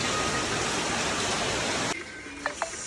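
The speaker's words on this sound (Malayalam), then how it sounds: "മീനെടുത്തുകൊണ്ടിരിക്കണ പെരുമഴ അല്ലേ ചേട്ടാ?" Heavy rain pours down in a dense, steady hiss for about two seconds, then cuts away to a quieter scene with a few faint tones and knocks.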